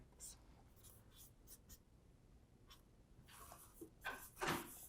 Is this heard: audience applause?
no